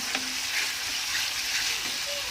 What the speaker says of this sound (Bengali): ভালো করে এটা কষিয়ে নেব এইভাবে মশলাটা কষানো